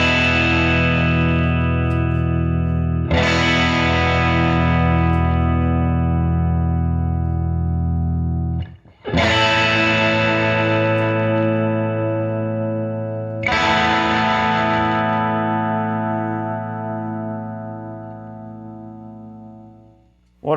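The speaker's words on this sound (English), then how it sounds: "Let's see if we've got some tremolo going here" Tube guitar amp, a Magnatone 113 Troubadour Deluxe, with tremolo running through a period-correct footswitch; three long sustained chords ring loud and pulsing, each left to decay, with no voices.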